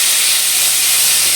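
Pieces of green plantain drop into hot oil that already holds dried red chilli and whole cumin, giving a steady, loud, broadband sizzle with no break.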